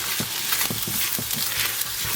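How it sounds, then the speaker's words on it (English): Scallions and egg whites are stirred in a non-stick frying pan, giving a steady sizzle with quick scraping strokes of a utensil repeating in an uneven rhythm. "I'm gonna add in my egg whites. Give that a good mix"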